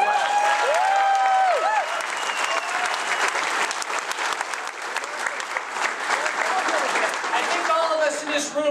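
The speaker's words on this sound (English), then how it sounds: "Let's all give them a round of applause" A rally audience applauds veterans at a candidate's event for the Idaho straw poll: a dense, sustained wash of clapping across the whole stretch, with cheering voices rising over it near the start.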